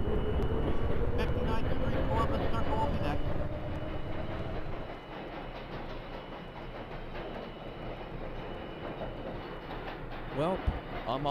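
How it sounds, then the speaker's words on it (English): D line subway train rumbling steadily with a rising motor whine, then settling into quieter rolling noise with a few sharp clicks, with faint voices in the background. "Now, I have to get on the train before it leaves."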